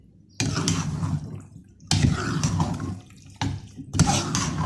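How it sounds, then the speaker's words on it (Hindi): Water poured into a cooking pot of potatoes and minced meat, a quarter cup splashing in several separate short bursts, close and fairly loud with no talk. "अब इस वक्त इसमें 1/4 कप पानी डालेंगे, बहुत थोड़ा सा"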